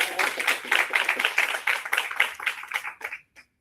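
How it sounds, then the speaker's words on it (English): A small live audience at a stand-up comedy set claps in a brisk patter of distinct, close handclaps that thins out and stops just before the end. "Can y'all clap it up for TC again for me?"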